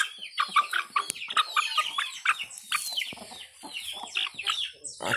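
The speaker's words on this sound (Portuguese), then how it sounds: "Aqui tá as galinhas aqui." Several young chickens with pea combs cluck and squawk busily up close, a dense overlapping chorus of short calls with no one speaking.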